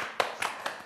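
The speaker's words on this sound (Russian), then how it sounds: "Аплодисменты мне!" Three sharp, separate hand claps ring out close and fairly loud in a short burst during a Gomel evening show.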